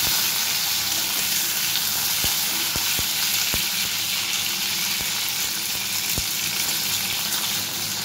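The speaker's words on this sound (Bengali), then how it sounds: "এবার একটু সিমগুলোকে উলট পালট করে দিয়ে লাল করে ভেজে নিই।" Flat beans frying in a little oil as they are turned over, a loud steady sizzle with a few sharp spatula clicks against the pan.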